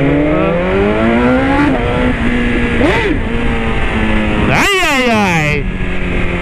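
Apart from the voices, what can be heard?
motorcycle engine revving, downshifting without clutch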